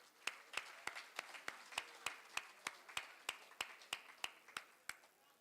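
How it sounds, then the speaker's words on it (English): Honorable members of the National Assembly at a post-election seminar applaud two resource persons. The clapping is quiet and evenly paced, with about three sharp claps per second, steady throughout and heard alone. "Please join me, honorable members, in applauding the two resource persons."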